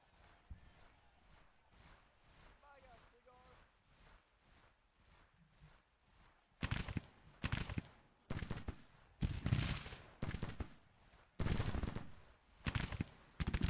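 Musket volleys crackle in Grand Tactician: The Civil War, a Civil War strategy game: after a quiet stretch, loud ragged bursts of rifle fire start and repeat in uneven clusters, close and sharp.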